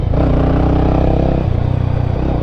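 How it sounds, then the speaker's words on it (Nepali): A motorcycle exhaust, heard with or without a dB killer fitted, gives a loud, close, continuous engine rumble with a throbbing low pulse that wavers slightly in pace. "डिबी किलर बिनाको साउन्ड र डिबी किलरसँगको साउन्ड सुनाउँछु के।"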